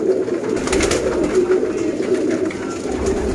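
Sialkoti pigeons coo in a steady, close, low-pitched rolling murmur that repeats continuously with no talk over it.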